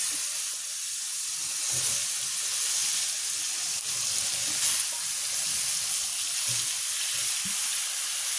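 Gullivindala fish go into a pan of cooked masala and fry with a steady sizzling hiss, broken by a few soft stirring knocks, close and continuous with no talking.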